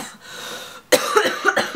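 A close, sharp cough burst follows a quiet stretch, with a few rough, repeated hacks trailing after it.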